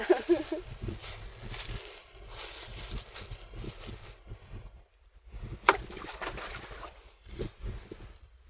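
A small boat is paddled across water, with soft irregular splashes and wooden knocks of the paddle spread through the clip, fairly close and at low level, with faint background noise.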